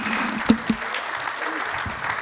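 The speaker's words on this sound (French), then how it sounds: "Je propose qu'on l'applaudisse." A small audience at a civic meeting on intercommunal citizenship applauds in a brief scattered patter, with a voice briefly heard over the clapping.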